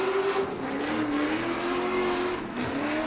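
A race car launches from the start line at Irwindale Speedway and climbs through first to fourth gear, its loud, steady engine roar rising in pitch and dropping back at each shift.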